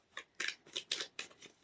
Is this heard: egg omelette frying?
no